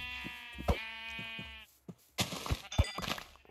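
A white sheep bleats in Minecraft, a long wavering cry followed by a second, rougher bleat, with soft game clicks and steps around them.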